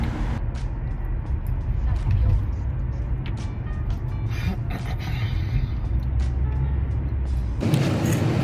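Steady low rumble of a car driving along a road on a rainy day, heard from inside the cabin, with a constant engine and tyre drone and a brief shift in tone near the end.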